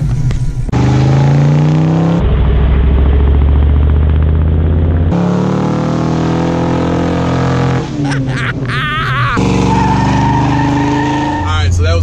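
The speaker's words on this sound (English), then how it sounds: "Rick, SQRBDY, he is the king of burnouts in this little trio of trucks." A pickup truck does a tire burnout on the road home from SEMA 2019, its engine revving loud and close with a steady roar and shifting pitch, while people talk over it.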